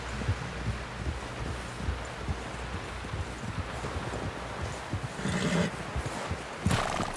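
Horse sounds with clip-clopping hooves and rustling over a steady windy background, with a short whinny near the end, from the video game Red Dead Redemption 2.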